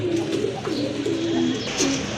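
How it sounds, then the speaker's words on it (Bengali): Pigeons, including a Lahori breed, coo softly and repeatedly close by, low rolling calls repeating over a steady background hum. "এখানে কিন্তু দুই ব্রিডে দুইটা কবুতর আছে খুবই সুন্দর একটা হচ্ছে লাহোরি"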